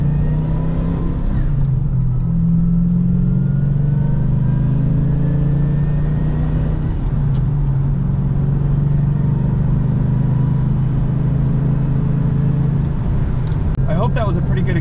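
A supercharged Toyota 1UZ V8 car accelerates hard in second gear, its loud, close engine note rising steadily in pitch with a rumbling drone, and a brief drop near the end. Someone talks over it.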